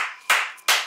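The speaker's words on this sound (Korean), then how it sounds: "박수!" Close, sharp hand claps, two or three crisp slaps spaced about a third of a second apart, loud and dry, with no voices.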